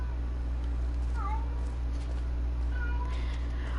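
A house cat lets out two distinct meows, one near the start and one toward the end, thin and moderately faint over a constant background drone.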